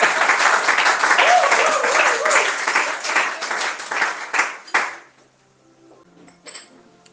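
A church congregation applauds and cheers the Lord, a dense, loud wash of clapping that runs for about five seconds and then drops off abruptly to near silence.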